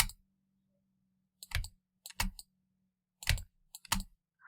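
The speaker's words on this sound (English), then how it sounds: "I'm just pressing the space key on my keyboard before I drag to move around" Four sharp clicks of a computer keyboard's space key, spaced about a second apart with a quiet pause between presses, close and isolated against a faint low hum.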